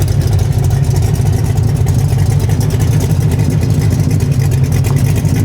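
A loud, throaty hot rod engine with a performance cam idles with a lumpy, uneven rumble and slight surges, steady throughout, close by.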